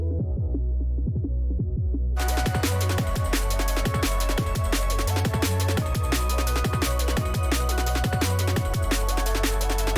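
A heavily compressed, crushed low-end bass line drives through a dense electronic music remix, with pulsing deep lows that thicken when the full mix kicks in partway through, loud and steady.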